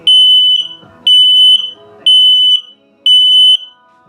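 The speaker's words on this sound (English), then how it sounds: "here comes your low battery alarm" A shrill carbon monoxide detector low-battery alarm in a 2021 Jayco Precept 34G motor home beeps in a steady repeating pattern, four loud high-pitched tones about a second apart, close to the microphone.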